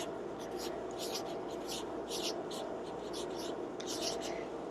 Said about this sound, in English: And I want you to write that person